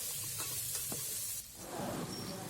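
Chopped tomatoes sizzle in hot oil in a pan while being stirred, a close steady hiss with scraping strokes. The sizzle dips briefly midway, then returns with a wetter, bubbling crackle.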